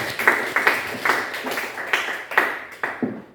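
A school class claps hands together in a series of about eight short, fairly even bursts, heard at close range in a room with faint background noise.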